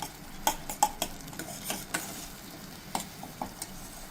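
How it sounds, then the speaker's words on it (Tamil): Tomatoes frying in a pan for sambar are stirred with a utensil, producing light scraping taps at an uneven pace over a faint steady sizzle, close and without any talking. "கிண்டி விட்டுக்கேன். தக்காளியோட பச்சை வாசம் போனால் போதும்."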